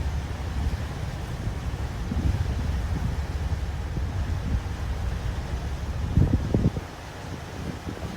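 Motor boat cruising at sea with the wind at low engine revs, a steady low rumble and broadband rush of wind over the microphone filling the whole stretch, with a brief rougher burst near the end.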